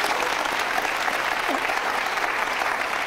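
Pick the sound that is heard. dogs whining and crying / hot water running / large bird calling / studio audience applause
studio audience applause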